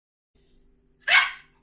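A single sharp dog bark rings out indoors in a kitchen, loud and close, after a quiet moment with faint low background hum.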